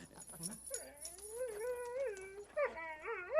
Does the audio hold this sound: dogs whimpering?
yes